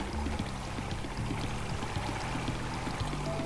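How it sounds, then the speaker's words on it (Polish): Steady flowing river water in the Minecraft video game, a continuous pouring, streaming wash that stays even and fairly close throughout, with no talking over it. "Tutaj mamy rzekę, idzie z gór."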